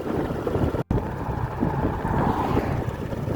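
Strong wind roars continuously across the microphone, a dense, blustery rumble with one brief dropout, and no voices, at Suy reservoir in rural Champhone, Savannakhet, Laos.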